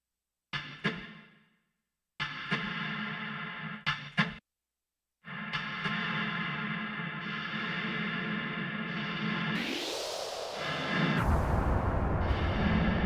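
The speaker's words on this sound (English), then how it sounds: "If I put a reverb after this" Bursts of a buzzy, distorted, filtered synthesizer tone in a techno set start and stop, then hold with a sweeping, washy reverb tail as the sound spreads out and grows brighter.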